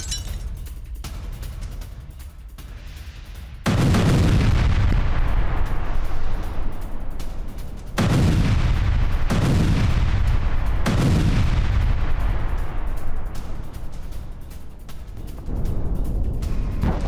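Airstrike explosions on Iranian nuclear sites at Natanz and Isfahan: a series of loud, heavy blasts with deep rumbling decay, one after another over several seconds, each roar swelling and fading into the next.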